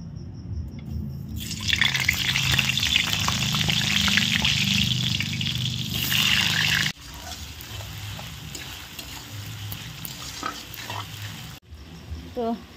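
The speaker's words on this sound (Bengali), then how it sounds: "আমি ততক্ষণে আলুগুলো আর কি ভেজে নিই" Potatoes fry in hot oil in a kadai with a loud, steady sizzle for several seconds, then the sound settles into a quieter crackle broken by a few soft clinks and shifts.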